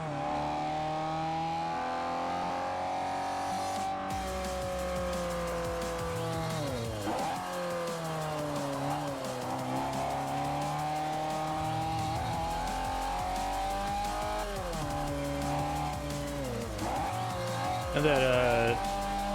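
In the racing game Forza Motorsport 4, a car engine revs up and down with squealing tires, a continuous loud mechanical whine that rises and dips, while a voice seems to talk over it.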